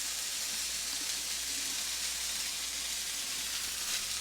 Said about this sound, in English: I'm going to put a little beef tallow here to help our onions saute a bit.